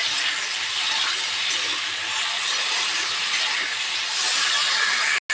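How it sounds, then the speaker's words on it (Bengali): Spice paste of chilli, cumin and ginger frying with Malabar spinach seeds in a pan, a steady loud sizzling hiss that runs unbroken and close throughout. "মশলাটা দিয়ে পুঁইশাকের বীজটা আমি হালকা কষিয়ে নিয়েছি"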